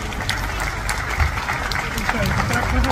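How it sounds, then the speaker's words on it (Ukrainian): A dense wash of applause from a crowd at a Ukrainian women's league branch event, continuous and fairly even throughout, with no single claps standing out. "Оплески!"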